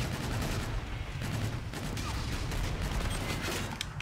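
Gunfire in Infinite Warfare multiplayer, with dense, continuous rapid shots and bursts layered over a steady rumble, loud and unbroken for the whole stretch.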